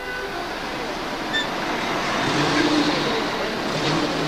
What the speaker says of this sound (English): All the traffic.